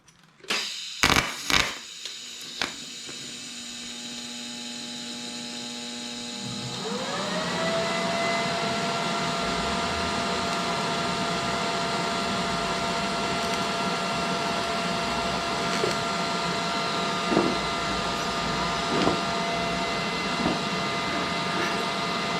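Arc welding on tow hooks for a Cobra Daytona build: a few sharp clicks, then a steady, close buzzing hiss with a constant hum that runs to the end, broken by occasional small pops.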